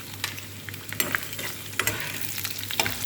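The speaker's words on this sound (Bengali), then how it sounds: "এখন এখানে আমি পেঁয়াজটা দিয়ে দিব। পেঁয়াজটাও হালকা ভাজা করব।" Garlic and onion frying lightly in a pan: a close, steady sizzle with irregular scraping and clinking stir strokes every half second or so.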